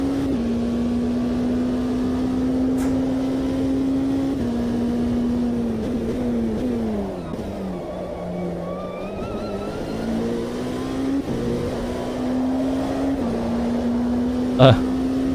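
Race car engine from the PC racing game Automobilista 2 on the Sebring circuit, a steady loud drone that rises and falls with gear changes and throttle, running continuously with commentary talk over it.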